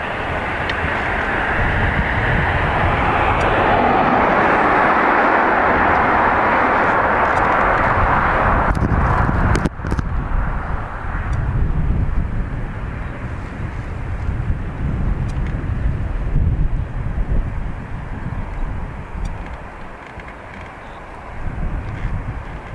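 A Delta airliner on its takeoff roll at Dublin Airport gives a loud, broad jet roar for about ten seconds, then drops to a lower rumble that fades and wavers as it recedes.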